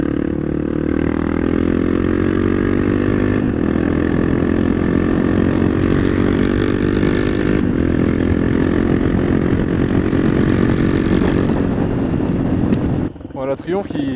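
A Triumph Street Triple 675cc motorcycle, restricted to 47.5 hp for the A2 licence, roars loud and close under hard acceleration, its engine note climbing steadily through the revs before cutting off abruptly near the end.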